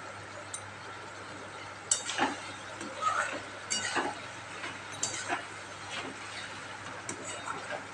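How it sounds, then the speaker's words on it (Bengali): Pointed gourd (potol) being stirred with spices in oil in a pan, giving soft, irregular clinks and scrapes of the spatula against the metal over a faint sizzle. "এবার পটলটা আর একটু ভালো করে নেড়ে নিতে হবে মশলার সাথে"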